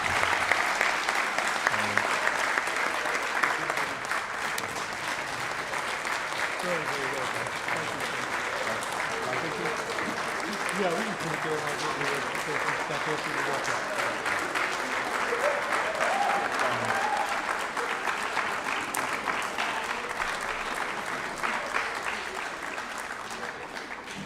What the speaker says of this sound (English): The script here says, let's give another big round of applause to Jonathan, but I think we just took care of that